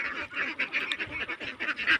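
Ducks kept for eggs on a Bangladeshi farm quack and honk continuously as a busy flock, with dense overlapping calls and no pauses.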